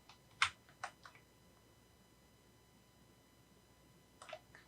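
A few sharp key presses on a computer keyboard while working in Cinema 4D modeling software, two quick clicks near the start and another short pair near the end, close and fairly quiet with silence between.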